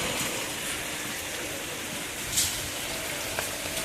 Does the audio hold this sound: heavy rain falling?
yes